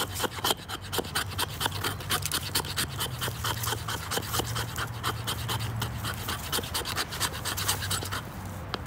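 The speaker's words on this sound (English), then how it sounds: "say hello to Percy, my other pup" A dog pants rapidly and steadily close by, a rhythmic run of quick breathy huffs continuing throughout outdoors at a bushcraft camp.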